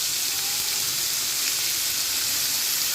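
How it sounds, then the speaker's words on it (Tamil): Onions sauté in a hot pan with an even, continuous sizzling hiss, close and steady throughout, with no talking. "வெங்காயம் வதங்கிட்டுருக்கு"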